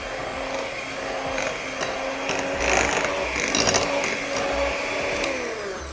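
An electric mixer whirs steadily close by as it mixes cake batter for a cheese tape sponge cake, a continuous motor drone with rattling beater clicks and slight rises in pitch, and no talking over it.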